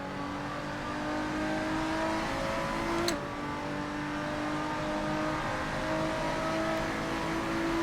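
Lotus 3-Eleven race car on a timed lap at Imola in the Assetto Corsa sim, its engine a steady sustained drone with one quick gear-change dip, continuous and loud with no talk.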